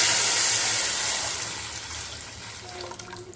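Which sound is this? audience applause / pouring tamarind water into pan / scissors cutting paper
pouring tamarind water into pan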